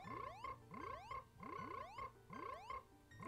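A cursor sound effect in a chaotic Ocarina of Time online randomizer video game has been swapped for frog-like croaks. The quick rising chirps repeat about every half second, with no voices.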